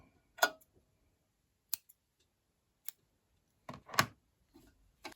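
Scissors snipping apart a chain of sewn granny fabric squares, several sharp isolated cuts with quiet gaps between, close and crisp, a couple of snips coming in quick pairs.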